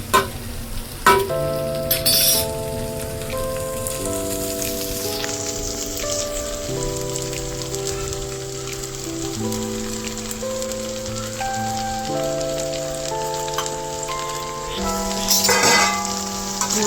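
Pasta frying and being stirred in a pan, a continuous soft sizzle with occasional spoon scrapes, running under steady background music throughout.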